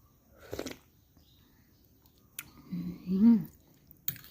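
Someone slurps and chews a spoonful of thick rice noodle soup: a short wet bite, a pause, then a louder squishy mouthful of chewing, with a faint voice in the background.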